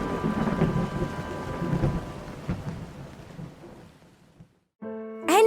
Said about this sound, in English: as the first raindrops began to fall